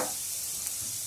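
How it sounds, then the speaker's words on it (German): Sweet potatoes sizzle in a hot frying pan, a steady close hiss of frying with a faint stir partway through and no voices. "erst noch ein bisschen die Süßkartoffeln anbrutzeln"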